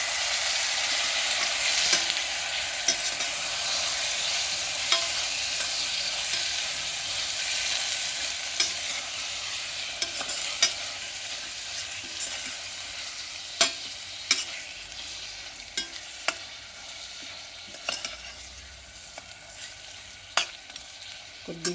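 Mutton sizzles loudly in a pan with onions, green chillies and ginger-garlic paste, a constant close frying hiss broken by occasional scrapes and clinks of stirring.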